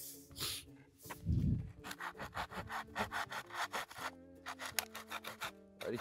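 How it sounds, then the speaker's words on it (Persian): Hand saw cutting through wood outdoors in a northern countryside setting, a steady run of rasping back-and-forth strokes close by, loud and rhythmic, with no talk over it. "اینجوری از اینجا اینجوری اره کن"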